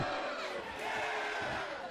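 A wrestling crowd at a Wiseguy versus Matt Cross match roars and cheers steadily, a dense, loud wash of voices filling the arena without letup.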